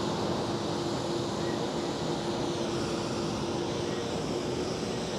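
A Finnair Airbus A321 jet at Schiphol airport, heard as a steady, continuous engine roar with a faint tonal hum, fairly distant and unbroken throughout.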